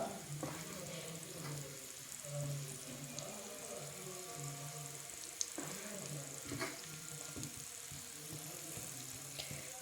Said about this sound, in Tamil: இப்போ இந்த பணியாரத்தை இதில் நாம் ஊற்றிடலாம்.